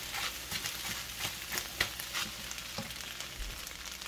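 Rice frying with eggs and vegetables in a pan, a steady close sizzle broken by scraping stirs and light clinks of the utensil.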